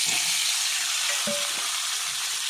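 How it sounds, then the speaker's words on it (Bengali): Potatoes fry in hot oil in a wok, giving a loud, steady hiss with no talking and one or two faint clinks from stirring. "আলুগুলোকে ভালো করে ভেজে নেব"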